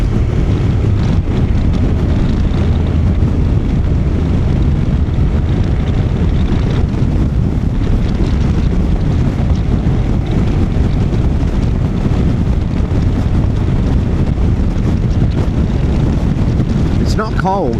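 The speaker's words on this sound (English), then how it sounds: "it's just windy, really windy" Strong wind buffeting a rider on a Honda NC750X motorcycle, a loud, constant low roar and rumble that continues unbroken for the whole stretch, with no talk over it.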